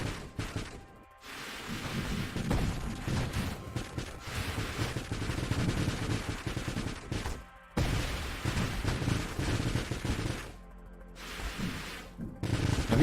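Mines exploding and firing rockets in the space shooter video game Nova Drift, producing dense rapid crackling blasts and bursts in continuous volleys with short gaps, moderately loud and mixed together.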